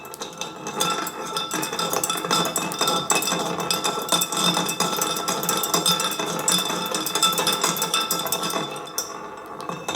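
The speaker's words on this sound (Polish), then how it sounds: "tygiel z próbką i za pomocą szczypiec przewracam go tak, aby całe szkło wodne się opuściło" A lab crucible holding a sample is tipped over with metal tongs so that water glass drains out, giving a dense, steady run of close metallic clinks and scrapes with no voices.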